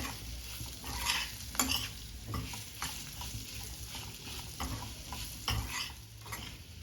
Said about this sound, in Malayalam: ഇനി ഇതെല്ലാം നന്നായിട്ടൊന്ന് മിക്സ് ചെയ്യാം